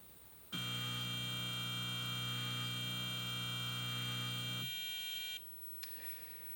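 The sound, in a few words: buzzer on homemade index driver for milling attachment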